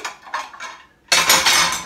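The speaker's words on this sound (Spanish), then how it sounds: "saco los platos de aquí" Ceramic plates clink and rattle as they are taken out of a drawer, soft scrapes at first, then a louder clattering burst of stacked plates.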